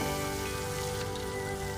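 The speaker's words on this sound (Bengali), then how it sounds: "তো এইভাবে করে উল্টো পাল্টে করে মাছগুলোকে ভেজে নিতে হবে লাল লালভাবে।" Pieces of katla fish fry in hot oil with a dense, continuous crackling sizzle that holds steady and close throughout.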